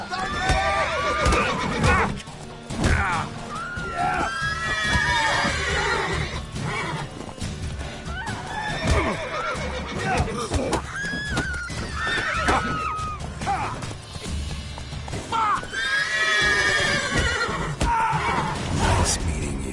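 Horses in the Witcher 3 video game neigh and whinny repeatedly, loud and close, among clip-clopping hooves, crashes and voices from the game scene.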